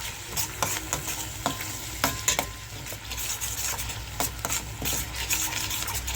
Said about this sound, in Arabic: وبعد ما شيلنا الجمبري هنشوح الثوم اللي باقي